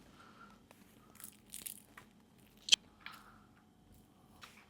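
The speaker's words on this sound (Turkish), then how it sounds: "bir ısır bakayım yumurtayı" Close, crisp bites and crunchy chewing on egg-filled bazlama toast, a few separate crackly bites scattered over quiet moments, with one sharp crunch standing out.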